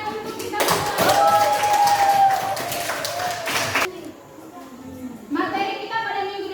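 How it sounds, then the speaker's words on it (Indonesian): Classroom applause from a group, a burst of clapping for a few seconds, with a whistle-like tone and voices mixed in, then quieter talking near the end. "Tepuk tangan untuk kita semua."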